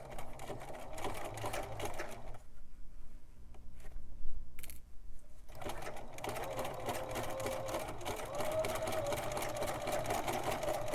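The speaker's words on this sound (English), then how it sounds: "It's going to be a little bit tricky getting this under the sewing machine" A sewing machine stitches a necktie-label bracelet in steady, close bursts of rapid mechanical chatter, pausing briefly midway before running on again.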